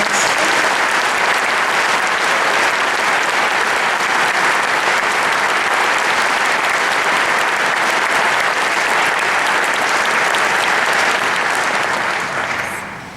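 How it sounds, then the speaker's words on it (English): An audience at a high school all-state choir event in South Dakota applauds, a loud dense wash of clapping that holds steady for the whole stretch and fades only at the very end. "If you could give them a round of applause"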